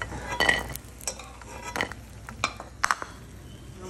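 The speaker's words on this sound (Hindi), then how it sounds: "अब काजू को एक बोल में निकाल देते हैं।" Fried cashews scooped out of a pan into a bowl with the gas off, heard as a series of scattered scrapes, clinks and soft taps of a utensil against metal, close and fairly quiet, with no voices.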